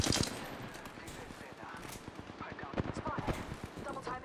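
Rapid gunfire in the battle royale shooter Apex Legends, a dense run of sharp repeated shots with bursts and pauses, under a player's voice chat.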